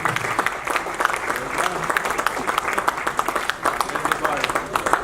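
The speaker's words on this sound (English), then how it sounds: "give yourself a warm round of applause" A large audience claps warmly at the IMEC 10th anniversary ceremony for the cadet program classes, loud continuous applause with sharp individual claps standing out, carrying on for several seconds with a brief dip midway.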